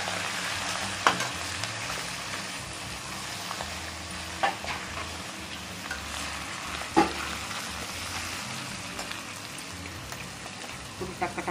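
Tempering spices sizzle steadily in a hot pan for a mutton blood boti fry, with a few sharp clinks and scrapes from stirring rising over the even frying hiss.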